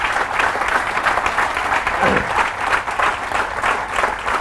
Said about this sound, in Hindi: इस बात पे जोरदार तालियां होनी चाहिए